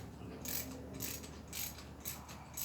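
A ratchet snugging spark plugs on a Mercedes W204 C350, heard as quiet, close, rhythmic clicking in repeated bursts of about four strokes with no talking.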